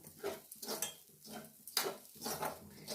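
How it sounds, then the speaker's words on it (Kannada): Lentil filling for bakery-style kachori stir-fried in a pan: rhythmic bursts of scraping and clattering as a spatula pushes the mixture around, repeating roughly every half second, close and moderately loud. "ಇದನ್ನು ಮತ್ತೆ ಸ್ವಲ್ಪ ಹುರಿಯೋಣ"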